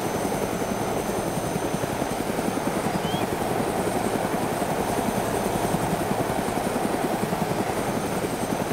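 A helicopter in the video game DayZ makes a loud, continuous rotor thump with a steady engine whine, close and unbroken throughout.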